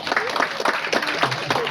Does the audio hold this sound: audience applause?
yes